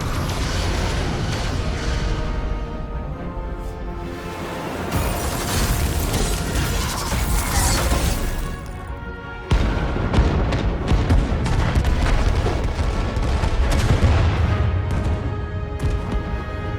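Starship weapons in Star Trek: Resurgence pound an enemy ship, a dense, continuous barrage of heavy booms and mechanical firing bursts that runs loud for the whole stretch, with one brief dip partway through.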